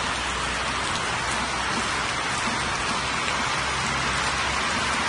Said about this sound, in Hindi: यहाँ पर फुल तेज मूसलाधार बारिश जारी है